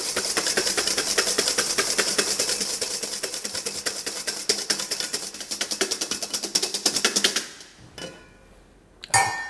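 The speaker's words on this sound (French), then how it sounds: "Commencez déjà à légèrement serrer les blancs en ajoutant un peu de sucre." Egg whites are whisked with sugar for a sponge sheet batter in a rapid, steady metallic whirring and clattering close up that stops abruptly near the end, followed by a brief clink.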